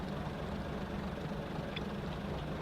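A Class 101 first-generation diesel multiple unit in a four-car formation idles in Train Simulator 2016 with a low, steady engine drone and a faint hum, even and unbroken, with no voices.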